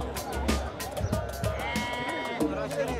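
Sheep bleating several times close by at a market in Tunisia, over background chatter and farmyard noise.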